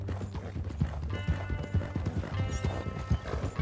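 Rhythmic clip-clop of a horse's hooves trotting at a steady pace in Red Dead Redemption 2, close and clear over a faint background hum.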